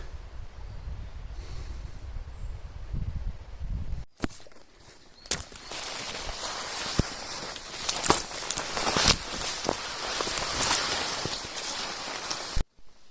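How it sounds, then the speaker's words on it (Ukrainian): Steady patter of rain falling through a Carpathian forest in April, soft crackling drops over a broad hiss, with occasional sharper taps and a brief thump midway. "І вже паде дощик."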